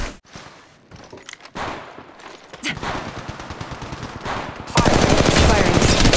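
Automatic gunfire in the mobile battle-royale game Apex Legends Mobile, short bursts early on building into sustained loud rapid fire toward the end, with game effects mixed in.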